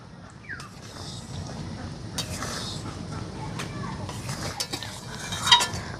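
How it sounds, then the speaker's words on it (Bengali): A spoon gently stirs mixed vegetable pickle with spices in a pan, making soft, irregular scraping and clinking sounds over a low background hum, with a sharper clink near the end. "এবারে মশলাটা দেওয়ার পর আরো 2 মিনিট মতন একটু নাড়াচাড়া করে নেব।"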